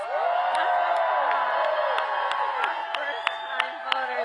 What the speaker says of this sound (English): let's applaud our first-time voters